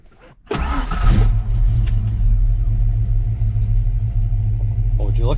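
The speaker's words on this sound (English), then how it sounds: "Oh, now the fuel pump's even priming." A 1993 Texas DPS car with a previously bad PCM cranks and catches, then settles into a loud, close, steady low idle rumble, with someone talking over the engine.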